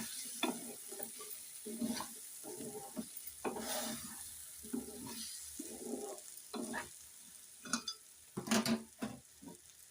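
Small eggs are fried in a pan with coriander seeds and stirred gently, producing repeated soft scraping strokes over a faint, steady sizzle, close up and fairly quiet.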